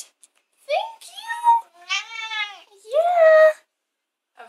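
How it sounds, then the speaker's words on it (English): A cat meowing nearby, three drawn-out, tonal meows with rising and falling pitch, loud and clear against a quiet background. "Ever since we got home, Lynx has been meowing so lovely."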